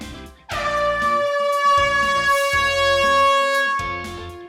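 A loud, sustained air horn blast rings out with bright brassy tones, holding steady for several seconds over pulsing low beats before fading.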